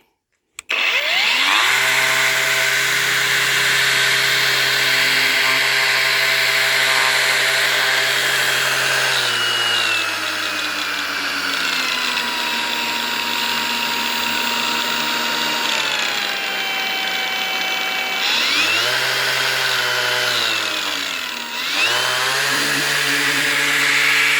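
An Einhell TE-AG 18/125 cordless angle grinder fitted with an unbalanced disc spins up and runs loudly close by, a high whining buzz with wobbling pitch that dips twice before recovering.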